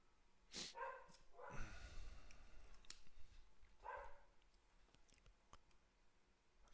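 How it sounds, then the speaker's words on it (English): A dog barks outside, two or three muffled, distant barks separated by quiet gaps within a still room. "That's Steven barking outside."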